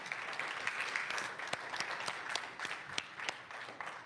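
An audience applauds a team thanked for recent repairs and additional painting, a steady wash of many hands clapping at moderate distance with scattered sharper individual claps throughout.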